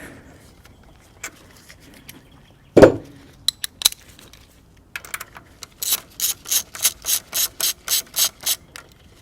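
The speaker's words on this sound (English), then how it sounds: "Now we'll take our deep 13 and we'll get this bolt here." Ratchet with a deep 13 mm socket loosening an AC compressor bolt on a GM OBS Chevy or GMC truck: a few scattered clicks and a knock, then a close run of quick rhythmic ratcheting strokes.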